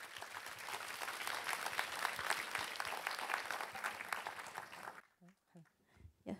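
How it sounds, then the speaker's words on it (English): Big round of applause for a panel at a fintech fair, dense clapping that fills the room for about five seconds and then cuts off abruptly, followed by a few brief spoken words. "Please give a big round of applause for our panel."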